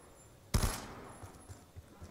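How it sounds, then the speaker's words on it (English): Gunfire in the video game Call of Duty Zombies on the Tranzit map: one sharp, loud burst of shots up close, then a few faint dull thuds in a quiet background. "why did I fire off all my bullets?"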